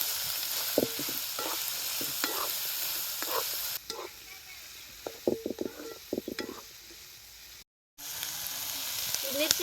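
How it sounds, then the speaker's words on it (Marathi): Capsicum and turmeric stirred and frying in a pan over a wood-fired stove: steady sizzling with repeated scraping and clacking strokes of the spoon, briefly cutting out near the end before the sizzle resumes. "आपल्याला ह्याच्यात चांगली अशी परतू परतू घ्यायची अशी हलवून घ्यायची"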